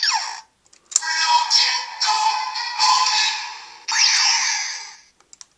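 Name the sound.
toy device sung chorus sound effect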